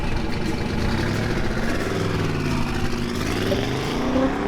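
A burnout car's engine revs hard close up, a loud, rough, sustained roar with the pitch climbing and wavering throughout.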